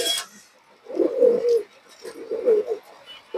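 A pet pigeon coos nearby in two soft, throaty, rolling phrases separated by a short pause, with a faint bit of handling noise around it.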